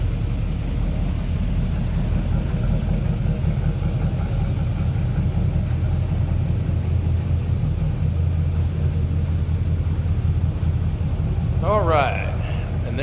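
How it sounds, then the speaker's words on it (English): A 1967 Chevrolet C10 pickup engine idles with a low, steady rumble close by, running evenly throughout with a brief voice near the end. "the engine idles nicely"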